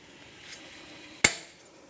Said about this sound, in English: and hammer this part in.